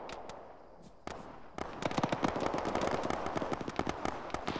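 Rapid bursts of video game gunfire, sparse at first then building into dense, continuous shooting with sharp cracks throughout.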